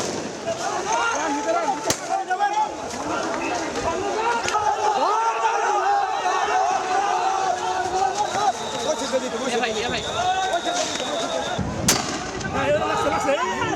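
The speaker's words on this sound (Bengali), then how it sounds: "এ সময় তাদের ঠেকাতে কাঁদানে গ্যাস ও সাউন্ড গ্রেনেড ছোড়ে পুলিশ।" Police tear gas and sound grenades during street clashes in Jatrabari amid a shutdown protest. A few sharp bangs crack out, one early and one late, over a constant din of crowd noise, shouting and nearby talk.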